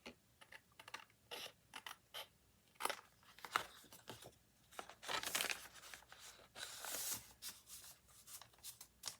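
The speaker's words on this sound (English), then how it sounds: "I should have used my bigger scissors." Scissors snip through lace in quick, irregular bursts of crisp cutting and rustling, close and fairly quiet, with short pauses between cuts.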